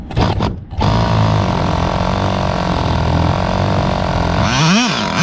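A Kyosho V-One RR vintage 1/10-scale nitro touring car engine running close by: a loud, steady buzzing drone after it catches, then a quick rise and fall in pitch near the end.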